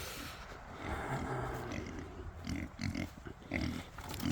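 Kunekune pigs grunt in low, repeated bursts while shoving against a pen, close by and fairly loud against steady farmyard background noise.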